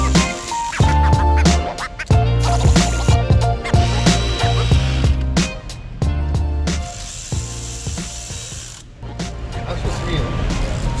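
A ratchet wrench clicks in short rapid bursts as valve cover bolts are torqued down on an Acura TL Type-S engine, the mechanical ratcheting close and repeated with brief pauses, alongside faint shop noise and a little speech.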